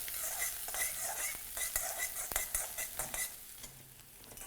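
Onion frying in a pan for a home-style bhindi dish, with steady sizzling crackle and the scrape and clink of a spoon stirring, close and busy with uneven bursts.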